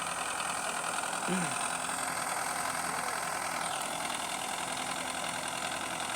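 A steady mechanical engine drone from a Russian tractor runs throughout, idling at an even pitch with a faint voice briefly rising underneath.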